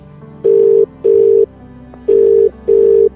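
A telephone ringing in a comedy sketch, four loud steady electronic ring bursts in two pairs with short gaps between them, close and clear with no speech.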